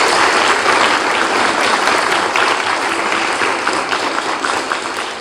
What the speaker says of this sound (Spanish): Despedimos a la doctora con un fuerte aplauso,